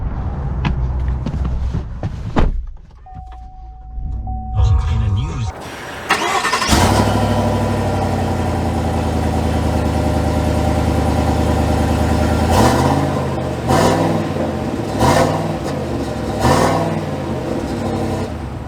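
A 2022 Chevy Silverado 1500 High Country starts up, its engine settling into a steady mid-pitched hum that holds throughout. Revs swell and fade several times near the end as the pickup pulls away, with no talking.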